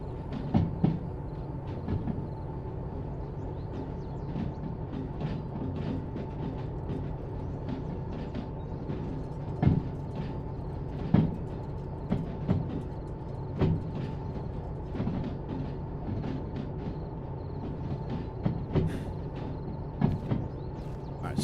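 A locomotive shunts freight cars at night in the train-driving game Derail Valley: a low rolling rumble carries scattered metallic clanks, couplings knocking and brief squeals throughout, with no talking.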